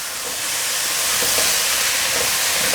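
Taro pieces stir-fried in a pan give a steady, loud hissing sizzle with a faint crackle throughout, close up and with no talk.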